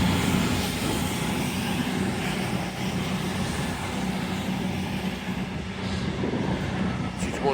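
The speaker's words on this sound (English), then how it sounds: "Arrived in now is a terminating Northern train service from Blackpool North." A Northern train from Blackpool North pulling into York station, a steady, loud diesel rumble and rolling drone that holds throughout with no clear change.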